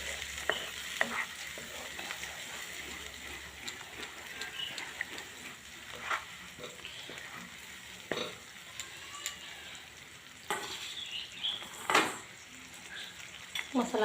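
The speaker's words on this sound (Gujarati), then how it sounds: "સરસ મજાને મિક્સ કરી લઈશું." Aloo kofta curry gravy being stirred and fried in a pan, with a steady sizzle and irregular scrapes and clinks of a spoon against the pan, close and continuous throughout.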